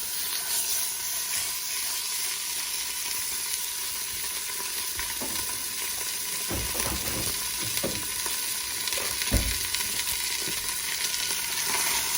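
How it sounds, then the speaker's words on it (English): A chunk of meat searing in a hot pan for birria, with a loud, steady frying hiss and a few thumps and scrapes as it is moved around, close by. "Now that we got that seared on all sides"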